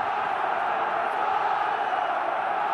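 A rugby stadium crowd at a Heineken Cup match between Munster and Racing Metro roars in a steady, dense wall of noise that holds at an even loudness throughout, with no single voice standing out.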